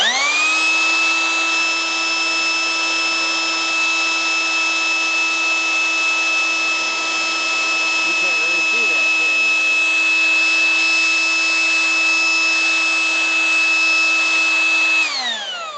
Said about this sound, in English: it says Coleman quick pump, and it makes a really nice blower for cleaning off, blowing off things, and in this case just drying off the alcohol